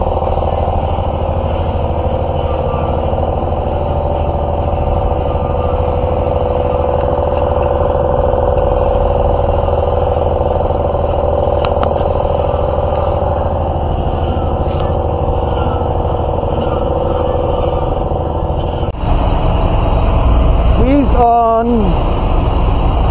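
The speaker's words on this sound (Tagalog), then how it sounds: "Maingay ang barko, maingay ang truck." At a seaside port in Zamboanga City, a ship's and trucks' engines drone loudly and constantly, joined near the end by a burst of louder mechanical noise and a rising whine.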